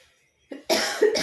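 A short burst of dry coughing, two or three harsh coughs close to the microphone after a moment of silence.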